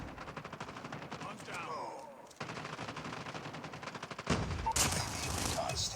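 Rapid bursts of automatic gunfire crackle through a Call of Duty Mobile match, loud and near with a brief lull midway before a heavier volley, while a voice speaks over the shooting.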